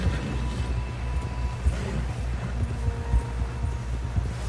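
Horse hooves clip-clop steadily in Red Dead Redemption 2 as a rider heads back toward camp buildings. The rhythm stays close and continuous over a low rumbling bed with no talk.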